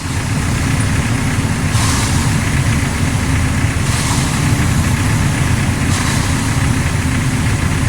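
A concrete mixer truck runs steadily at a construction site during a home foundation pour, with a loud continuous low diesel rumble and churning, without talk.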